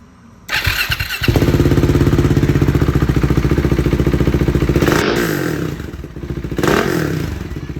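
A 2020 Husqvarna Svartpilen motorcycle starts up and idles with a loud, close, pulsing exhaust note, rising briefly with a throttle blip and falling back to a rhythmic idle.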